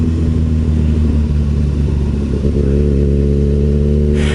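A Kawasaki ZX6R motorcycle engine runs loud and close, its deep, steady drone rising slightly in a rev partway through before settling back to a strong, even idle, with no one talking.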